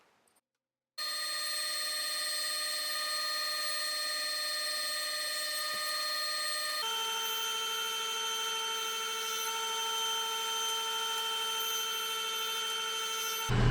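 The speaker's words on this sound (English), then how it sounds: "Now I'll use the inside and outside blade on my dado stack to give me a perfect 1/4 of an inch" Table saw with a dado stack of inside and outside blades cutting a quarter-inch groove in wood, a steady high whine running alone for about twelve seconds, with a slight change in pitch midway through the cut.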